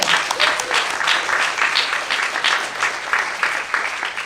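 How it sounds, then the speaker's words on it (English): An evening event audience applauds the organizing committee, a full, sustained round of clapping filling the room at moderate loudness, with faint voices underneath. "You can give them a round of applause."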